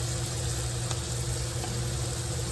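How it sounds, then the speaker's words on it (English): Onions sizzle steadily in a pan on medium-low heat, a continuous close crackling hiss with no breaks and no talking. "It's already medium low and it's still sizzling along here."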